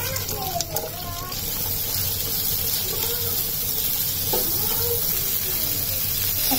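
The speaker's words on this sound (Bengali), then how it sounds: "এখন আমি এর সাথে একটু বড় করে পেঁয়াজগুলো যেগুলো কেটেছি সেগুলো ভেজে নিব।" Chopped onions frying in oil make a steady soft sizzle, close by, running under a person's talking.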